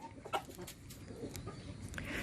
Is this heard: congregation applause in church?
no